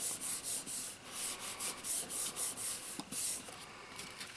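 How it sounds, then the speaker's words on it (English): Repeated rapid rubbing strokes on a glued paper card, a soft rhythmic scuffing of fingers or a tool across paper, close and fairly quiet with no talking. "Give it a nice rub to get the glue smeared around in there."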